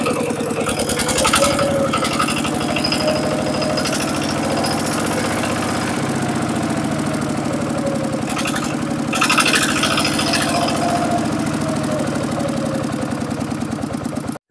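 A Chinese-made machine, seven years in service and with a radiator that needs constant topping up, runs steadily at idle, its engine chugging loud and close in a continuous mechanical drone with light rattles, no voices.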